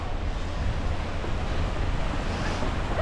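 Waves wash steadily onto a stony beach in a bay below crumbling, eroding cliffs on the Isle of Wight, a continuous broadband roar with heavy wind buffeting the microphone throughout.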